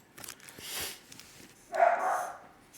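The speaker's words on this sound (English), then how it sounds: "see what Toby's barking at" A dog barks twice in the distance, faint and muffled, with a quiet indoor background.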